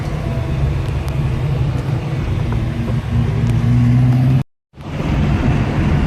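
A 1967 Volvo Amazon engine with a Weber 38 DGES carburetor cruising at light throttle: a steady, loud in-car drone with road noise and a low engine hum. It cuts off abruptly near the end, then resumes.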